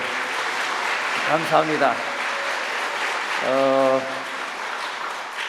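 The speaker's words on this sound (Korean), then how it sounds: "우리 다시 감사하는 의미에서 박수 한 번 더" Steady applause from a church audience at a concert honoring an invited elder, filling the whole stretch at moderate loudness while someone speaks briefly over it.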